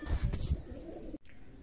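Pigeons in a coop give a low, throaty cooing that rumbles steadily for about a second, then cuts off briefly before faint bird sounds resume, close and moderately quiet.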